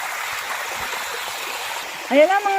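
River used as a bathing spot, a steady broadband rush of flowing stream water heard nearby, with a brief voice cutting in near the end.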